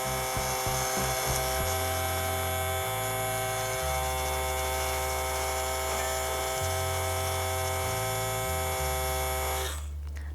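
An ultrasonic jewellery cleaning bath runs with a steady electric hum and a buzzy drone whose pitch steps up and down in blocks, starting with a few rapid pulses and cutting off near the end.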